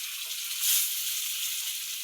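Fish frying on a tava, giving a steady high, hissing sizzle that swells briefly and then settles into a constant crackle, with no talk over it.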